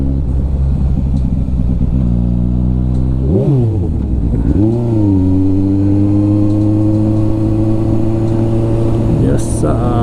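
A motorcycle engine idles with a low throb, then revs up sharply twice and settles back to a steady, loud drone heard close by, with a quick clatter near the end.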